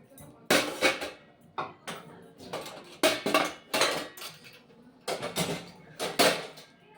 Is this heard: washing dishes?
yes